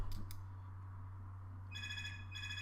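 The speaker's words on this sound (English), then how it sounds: "I'll be back in just a second because my phone is ringing" A mobile phone rings faintly at a workbench, a short tonal ringtone pattern over a steady low electrical hum.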